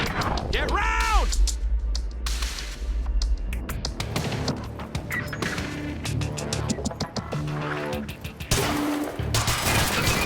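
Dense gunfire in the shooter Quantum Break, a loud continuous fusillade of shots and impacts with shouted squad commands mixed in over a busy game soundtrack.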